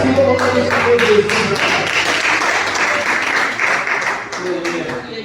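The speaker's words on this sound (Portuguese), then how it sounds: "Palmas que louvamos a Deus." Church congregation clapping in praise during a Sunday service, a lively burst of many hands under voices and tonal sound, strongest early then thinning out toward the end.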